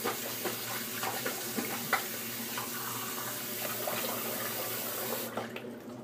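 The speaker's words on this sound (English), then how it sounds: "Let me wet the face." A bathroom tap runs steadily while the face is wetted for a shave, a continuous close water hiss with small splashes and hand sounds, cutting off near the end.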